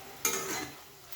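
A spoon stirs boiled potatoes with chickpea greens and lentil dumplings in a pan, giving one scraping stroke with a soft sizzle behind it and a brief knock near the end, with no speech.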